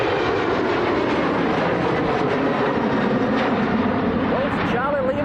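An Eastern Airways Embraer jet operating for KLM at Manchester Airport produces a loud, steady broadband engine roar that fills the whole stretch without letting up.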